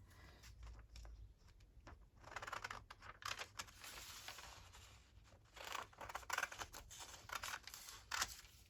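Scissors snip through paper during a papercraft project cutting a window flip pocket, a run of quick crisp cuts and rustles at close range, with no talk.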